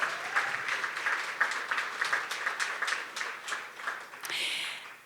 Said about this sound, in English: You can give yourself a warm round of applause.